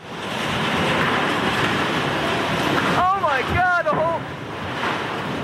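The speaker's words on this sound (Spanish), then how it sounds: "esto es el huracán Katrina en Nueva Orleans" Hurricane Katrina in New Orleans, a steady roar of strong wind and rushing water. The roar is loud and continuous throughout, with a few brief whistling gusts near the middle.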